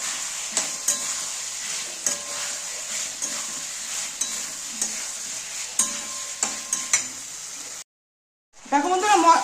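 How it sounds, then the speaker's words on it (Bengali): A spoon scrapes and stirs potatoes and pointed gourd in spiced masala in a pan, rhythmic strokes over a steady sizzle of frying, then a brief silence before a voice starts speaking. "আবার একটু নেড়ে দেব।"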